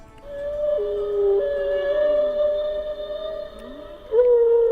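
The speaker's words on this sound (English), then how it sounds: "This is the humpback whale." A humpback whale call from the Nancy Drew game Danger on Deception Island, made of long tonal moans that hold, bend and shift pitch, then jump upward near the end, clear and alone with no speech.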